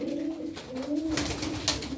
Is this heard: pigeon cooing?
yes